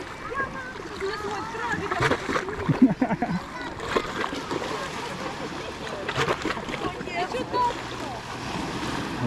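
Sea waves splashing around a stand-up paddleboard off the Crimean coast, with steady wash and scattered splashes throughout, mixed with wind and people talking nearby.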